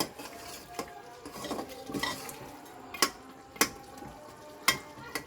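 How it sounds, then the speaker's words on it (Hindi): Two cut tomatoes frying in a pan for mutton arvi gosht, with quiet background sizzle broken by several sharp clinks of a utensil against the pan, spaced irregularly and heard close. "और हम साथ ही इसमें जो हमने 2 टमाटोस जो कट किए थे वो डालेंगे। ये हम डाल के इसको अच्छी तरह से फ्राई करेंगे।"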